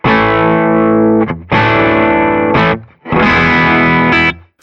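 Gibson SG electric guitar played through Will Sledge FX The Veil 919 and Biyang OD-8 overdrive pedals with slight breakup, three loud sustained chords, each cut off sharply before the next, with no voices.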